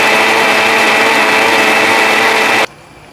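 A blender whirs loudly and steadily while making banana stem juice, then cuts off abruptly near the end, leaving quiet room tone.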